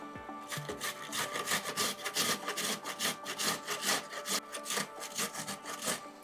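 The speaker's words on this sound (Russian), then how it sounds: "Также натрем ее на крупной терке." A carrot is rubbed down a coarse grater for a salad, giving a steady rasping scrape in quick repeated strokes, close and fairly quiet, with no talking.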